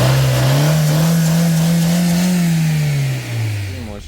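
A broken-down car's engine revs in a loud, close, steady drone that rises slightly in pitch, then drops and sags near the end, with no voices.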